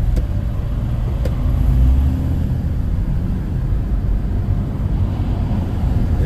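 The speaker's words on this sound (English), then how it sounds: "There's no escaping traffic in the Montreal." Steady low rumble of road traffic in Montreal, a continuous, fairly loud wash of passing vehicles with no distinct pass-bys and no voices.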